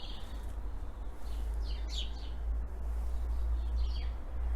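Faint bird chirps and short tweets come in a few bursts over a steady low hum, distant and quiet, in an April garden by a veranda.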